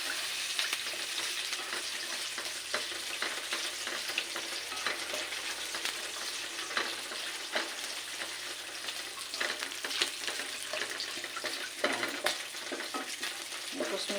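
Adobo meat with moringa pods and string beans sizzling steadily in a pan, with repeated scraping and stirring strokes close by and no talking.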